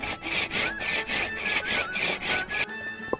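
A handsaw rasps through wood in quick, even back-and-forth strokes, close and loud, then stops abruptly near the end.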